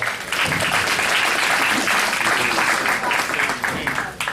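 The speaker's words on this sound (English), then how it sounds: "Let's give them a round of applause." Sustained applause from a crowd at a 4-H/FFA steer and market hog show, steady and fairly loud, with voices mixed in beneath the clapping.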